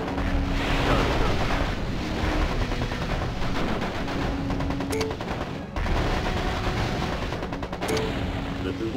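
Sustained machine-gun and cannon fire from a MechCommander Gold battle, dense and continuous over several seconds, with a couple of sharper bursts breaking through the roar.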